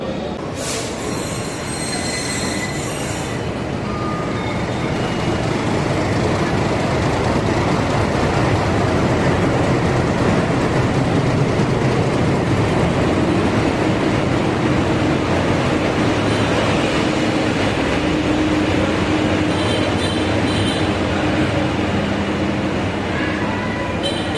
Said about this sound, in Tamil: வந்தாச்சு நம்ம நீலகிரி எக்ஸ்பிரஸ்